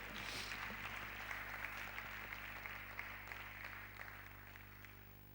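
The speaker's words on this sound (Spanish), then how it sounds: "¿Cuánto dan un aplauso de gloria a Dios, por favor?" A church congregation claps in praise, a faint, distant wash of applause over a steady low hum from the room.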